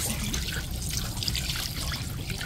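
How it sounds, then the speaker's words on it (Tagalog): Water pours steadily into a cooking pot holding pork leg (pata ng baboy) with salt, a continuous trickling splash that runs at an even level for the whole stretch with no talking. "at lalagyan na po natin ng tubig"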